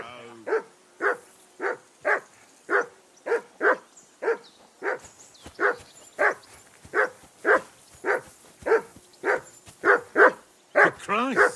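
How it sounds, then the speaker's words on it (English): A dog in Kingdom Come: Deliverance II barks about eighteen times in a steady, evenly spaced rhythm. Each bark is loud and clear against a quiet background, and the last ones come a little quicker. "Call off that damn dog before he wolfs down the last of our mates."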